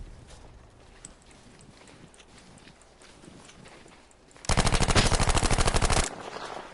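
Gunfire in the video game Battlefield V erupts as a loud, rapid burst of automatic shots lasting about a second and a half, following quieter scattered game sounds and ending abruptly.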